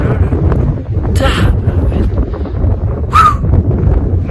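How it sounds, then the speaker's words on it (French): Strong wind buffets the microphone on a cold, exposed mountain summit along a volcano route, a constant low roar with brief gusty bursts and a faint high chirp. "Il fait froid, il y a tellement de vent."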